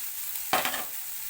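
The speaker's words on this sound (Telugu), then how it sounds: "కరివేపాకు కూడా వేసుకుంటున్నాను అవి వేగిపోయేవి రెడ్ కలర్లోకి అయితే వచ్చేసేది" Curry leaves, carrot and potato frying in oil in a pan, a short burst of sizzle and stirring that flares up briefly and then settles back into a quiet background hiss.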